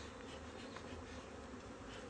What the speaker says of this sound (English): you've seen the bees flying around at the moment